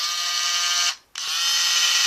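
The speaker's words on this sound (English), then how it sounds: "You actually hear different spinning sounds for when they're in motion" Dino Zord controller toy spinning, a steady high motorized whir that briefly cuts out and starts again, close and alone.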